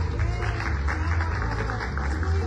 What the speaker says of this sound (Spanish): Un aplauso, señores,